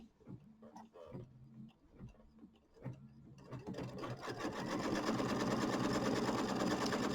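Sewing machine stitching a tack-down line through quilt fabric for a small holiday mini quilt, starting with a few short bursts, then running as a steady, continuous close whir for the last few seconds.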